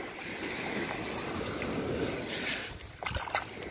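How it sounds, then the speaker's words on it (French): A freshly dug 20-centime coin found while metal detecting gets a quick rinse. Soft, fairly quiet water swishing and sloshing continues for a few seconds, followed by a couple of small handling knocks. "On va rincer un petit coup."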